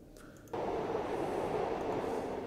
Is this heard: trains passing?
yes